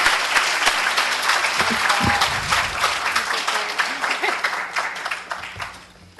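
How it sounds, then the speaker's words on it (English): A city council meeting audience breaks into steady, full applause that carries for several seconds, then thins and fades toward the end, with faint voices mixed underneath. "You can clap now."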